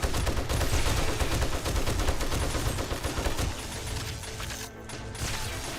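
Rapid gunfire while shooting a horde in a video game, dense loud bursts of shots and impacts for about three and a half seconds, then lighter scattered shots and clatter.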